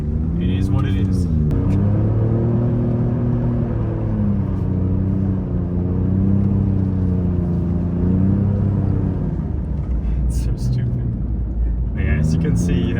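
A Ford Raptor truck in rear-wheel drive revs hard as its wheels spin in snow, the engine rising and falling in pitch through repeated surges, with someone talking over it.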